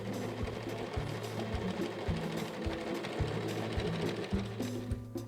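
A Kenmore sewing machine, model 385.15752, stitching steadily with a continuous mechanical whir and a rapid, regular needle rhythm, close and clear, with no voices.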